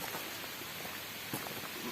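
Steady rain pours down outdoors during a flood, a dense, even hiss with faint patter and a brief louder splash, close and continuous with no voices.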